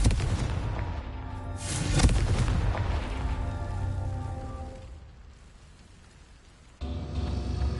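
Confringo fire spell blasting in Hogwarts Legacy on PS5, a sharp booming explosion with crackling debris that decays into a fading rumble, followed by quieter game ambience and another burst of noise near the end.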